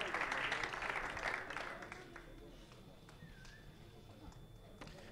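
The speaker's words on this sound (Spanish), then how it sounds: "Un fuerte aplauso porque ahora ya están los dos en pista." Audience applause at a robot line-follower chase race competition, a burst of clapping and cheering in the first couple of seconds that fades into quieter hall noise with scattered claps and faint voices.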